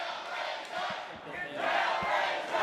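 Crowd at an arm wrestling supermatch event in Tulsa roars and shouts in surging waves, fairly distant and continuous, swelling louder toward the end.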